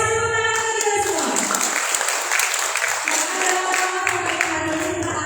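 A job fair crowd in a hall in Magelang claps along in a patterned rhythm, the hall filling with loud, busy clapping over a steady hum and occasional voices.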